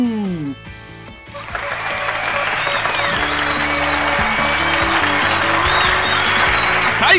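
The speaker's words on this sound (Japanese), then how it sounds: "はーい、拍手。" Applause rises in a video game scene from Hoshi Ori Yume Mirai, a dense steady clapping that swells after a short spoken lead-in and holds loudly to the end.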